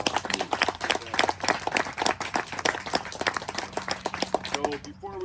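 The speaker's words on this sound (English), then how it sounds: "So let's give a round of applause" A modest gathering gives a round of applause in honor of a wounded corporal, uneven hand claps rising and falling close by, with a voice beginning to talk over the tail end.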